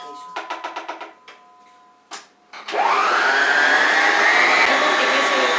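An electric mixer beats seed oil and sugar, starting with a quick run of ticking clicks and a few knocks, then switching on to a loud, steady, close whirring drone that holds to the end.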